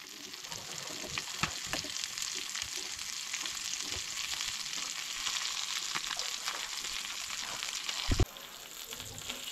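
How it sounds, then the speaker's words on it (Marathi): Mackerel frying in a pan, a steady crackling sizzle with scattered pops and a sharp clatter near the end, close and quiet, no talk. "तर हांगसर हांव न्हय नुस्तें फ्राय करून घेता"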